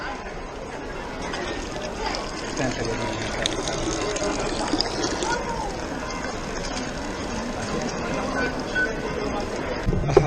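Water runs and splashes continuously at a fountain in Rome, with people chattering in the background.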